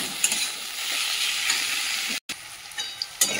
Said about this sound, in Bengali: দিয়ে এবার ভালো করে একটু বেগুনের সাথে শাকটা ভেজে নেব